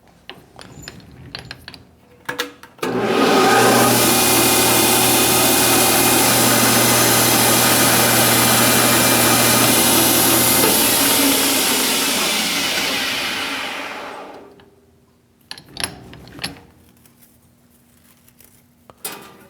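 Metal lathe taking a high-speed cut with a carbide tool, a loud steady whirring drone that starts abruptly, holds for about ten seconds, then winds down and fades, with faint clicks before and after.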